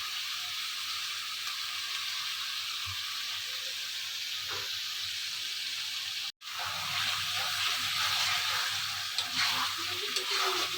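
Pangas fish sautéing in spices in a hot pan, with a steady loud sizzle and hiss throughout, briefly cutting out midway before resuming with stirring scrapes.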